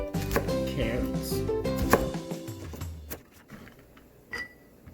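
A knife chops carrots on a cutting board in a home kitchen, a quick run of sharp close taps followed by scattered knocks and a scrape of the board, with no talking.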